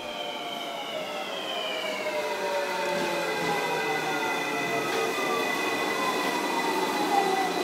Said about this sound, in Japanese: 新快速敦賀行きの到着です。